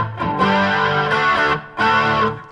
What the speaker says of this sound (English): let's just go through every pedal. Here's the tube screamer.